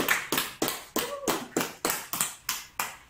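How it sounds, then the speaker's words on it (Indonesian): A small classroom group claps during a micro-teaching maths lesson, about ten distinct, evenly spaced claps in a steady rhythm, close and fairly crisp, with a brief voice murmur partway through. "Beri tepuk tangan untuk Ocinta"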